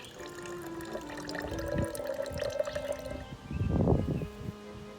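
Water is poured slowly into oil in a lava lamp experiment, making a steady gurgling trickle that swells into a louder splash toward the end.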